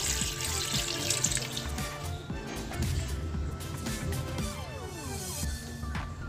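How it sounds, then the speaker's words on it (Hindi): Fresh water from a tap pours steadily into a pot of beef trotters for paya, a close, continuous splashing rush with a faint trickle and drips and no talk. "अब हम इसके अंदर दूसरा पानी ऐड करेंगे।"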